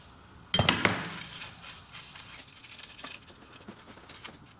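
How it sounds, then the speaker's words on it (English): Two 15mm wrenches clank sharply against a STACYC 16eDrive balance bike's rear axle, followed by softer metallic ratcheting and light tapping as the axle nut is worked loose, close and moderately loud. "We can now use two 15mm wrenches to take our rear axle off."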